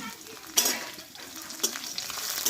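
Chopped ginger and green chilli fry in oil in a pan for a cabbage dish, a soft close sizzle broken by two sharp spatula strokes against the pan, no voices heard.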